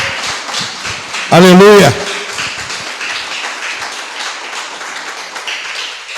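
A church congregation applauds steadily and loudly, with a dense wash of clapping throughout and a voice briefly shouting over it.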